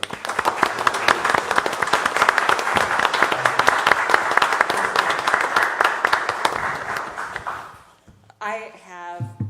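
Applause fills a county fiscal court meeting room, with sustained clapping from the gathered attendees for about eight seconds before it stops abruptly and a voice begins speaking.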